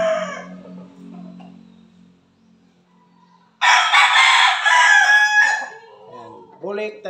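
A bulik talisayin rooster crows once, loud and close, a long drawn-out call following a quieter stretch of clucks and low background noise, with a shorter call rising at the end.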